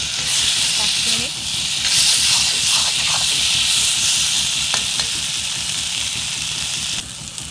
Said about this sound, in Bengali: এইভাবে আমি ভালো করে আবারও মশলাটা কষিয়ে নেব